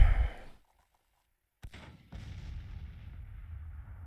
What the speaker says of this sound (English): We're hitting them with artillery